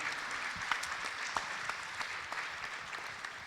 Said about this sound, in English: A round of applause for the panel.